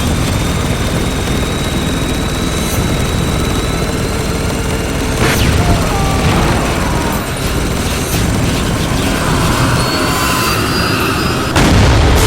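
A loud helicopter roars continuously in the video game Spec Ops: The Line, amid a busy soundscape of jet-like engine noise and scattered gunfire bursts, with no talking.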